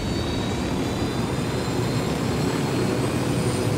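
Aircraft taking off in Ghost Recon Wildlands, a steady loud roar of jet and propeller engine noise that holds without letup, close and full, with no voices over it.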